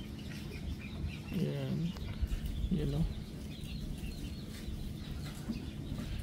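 Kaber and hulo crossbreed chicken giving two short clucking calls close by, with a faint third later, over steady outdoor background noise and someone talking.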